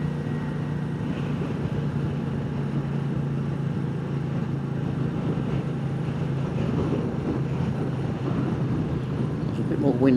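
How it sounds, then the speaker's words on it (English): Steady wind roars across the microphone while a Royal Enfield Meteor 350 rides along, a constant low buffeting rumble with a faint engine drone underneath, and a voice talks over it. "It's a bit more windy up here."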